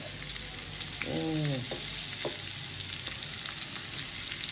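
Chopped onion and ginger with cumin frying in a pan give a steady, close sizzling hiss that runs through the whole stretch, with a brief tonal squeak near the start and no talking.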